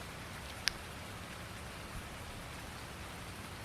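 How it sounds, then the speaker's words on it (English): Steady rain falling in the Farming Simulator video game, a soft even hiss of drops on surfaces with one faint sharp tick partway through. "I can't do anything until this rain stops though."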